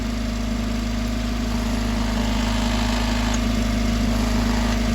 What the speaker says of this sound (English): So we've got lots of rattling going on here. So we got a loose heat shield, which is starting to get warm.